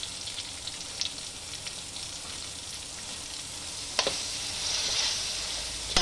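Washed bitter gourd goes into a pan of hot oil with turmeric for a tangy pickle, giving a steady soft sizzle with scraping stir strokes and a louder burst of frying partway through, with no talk.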